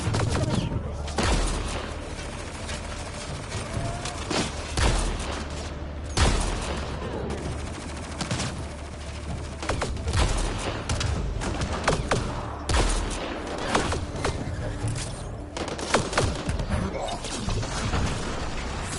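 Gunfire in the video game Mass Effect Andromeda, loud dense bursts of shots and impacts firing rapidly over a continuous roar of combat.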